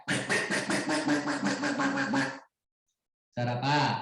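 A person mimics a duck with a rapid string of quacking voice bursts, pauses in silence, then gives a shorter quack-like call; another voice asks a brief question.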